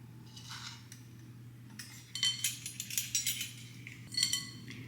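Spoon stirring and clinking against a glass while pumpkin drink is mixed with stevia. Irregular bright metallic taps come close and quiet over a low background hum, with no one talking.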